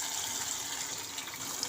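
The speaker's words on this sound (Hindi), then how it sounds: "और अब इसमें पानी डालूँगी" Water pours steadily into a cooking pot of potatoes and masala for chicken aloo gosht, a continuous close splashing gush with no talk.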